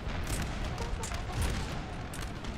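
Musket volley fire in the Napoleon: Total War video game, with regiments firing from several directions. Dense, rumbling crackle of shots and distant booms continues throughout at a fairly low, steady level.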